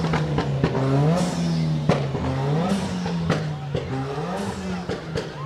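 A car engine revving loudly at a Halloween parade, a sustained droning rev that rises and falls with sharp bursts, close and prominent, with people talking over it.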